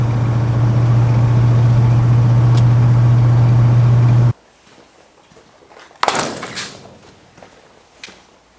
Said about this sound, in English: So far the truck's running pretty well.